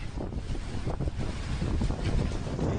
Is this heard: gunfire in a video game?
no